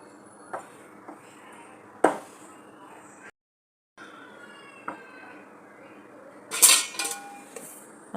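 A spoon scrapes and clinks against a bowl while saffron shrikhand is stirred with almond slivers and cardamom powder, giving scattered sharp taps and soft scraping with a brief quiet gap, close and moderately quiet.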